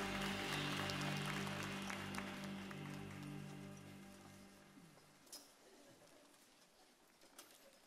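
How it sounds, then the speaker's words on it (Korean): A Korean church congregation at a Christmas Eve Sunday service applauds over sustained worship music, and the clapping and music fade away together, leaving a quiet room with a few stray claps. "우리 다시 한번 큰 박수로 주님께 영광 돌립니다"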